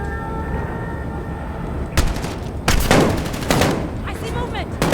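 Gunfire bursts in Call of Duty: Modern Warfare on PS4 Pro, a few sharp clustered shots cracking through a steady ambient battle background, with a shouted voice in the mix.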